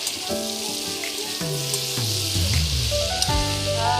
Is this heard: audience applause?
no